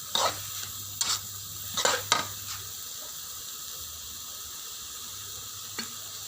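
Hed thop mushrooms being stir-fried in a smoky pan with oyster sauce, a steady sizzle broken by a few sharp scraping stirs near the start and one more toward the end.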